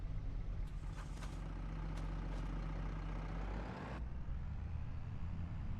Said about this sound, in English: Go ahead and turn off our truck here.